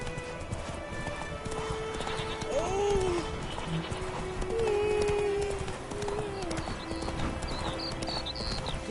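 Roach, the horse in The Witcher 3, trots with a steady clip-clop of hooves while neighing twice in clear rising whinnies, close and loud against a low game backdrop.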